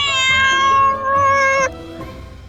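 A cat gives loud, close meows, one drawn-out call that wavers, breaks briefly and trails away, heard as part of a children's action song.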